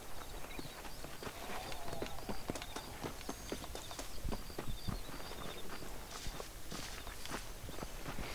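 Horse hooves clip-clop steadily through a ride in the Red Dead Redemption video game, a rhythmic run of footfalls at moderate loudness with ambient game sound beneath and no talk.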